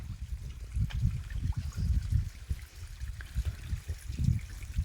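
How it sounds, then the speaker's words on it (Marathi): Continuous splashing and gurgling of water falling from a cliff, a steady low rushing wash with uneven surges, no voices. "तिकडे पहा कडा आहे एकदम कसा खूप पाणी पडतं तिथून"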